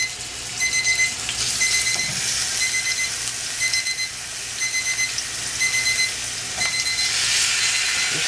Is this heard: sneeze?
no